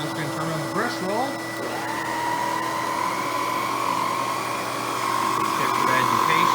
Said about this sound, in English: I was going to turn on the brush roll.